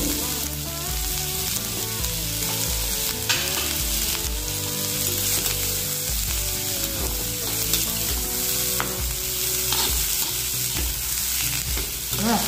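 Onions and a handful of garlic cloves fry loudly in a pan, a dense continuous sizzle broken by regular stirring scrapes, with no voices over it.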